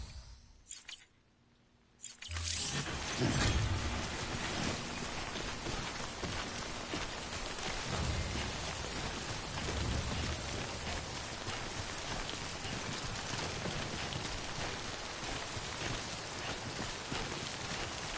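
Steady, dense rain pours down in the game Death Stranding, a continuous broadband hiss that starts abruptly after a short quiet moment and keeps on evenly with heavier low patter throughout.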